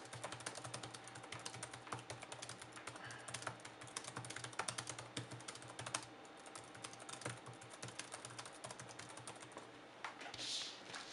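Rapid, continuous typing on a bare MacBook Pro keyboard with no protector fitted: a dense patter of light, close key clicks at a fairly quiet level.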